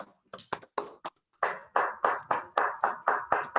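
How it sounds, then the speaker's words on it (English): Small audience at a poetry reading applauding in a series of separate, evenly spaced claps, close and moderately loud, starting with a few scattered hand claps before settling into a steady rhythm. "how about one more round of applause for Karla and Bruce"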